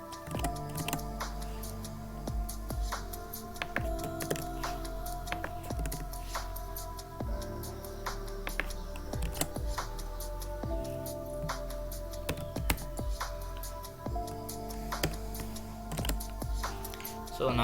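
Someone types on a computer keyboard with quick, irregular key clicks and taps, the keystrokes close and fairly quiet, running steadily with brief pauses and no talking.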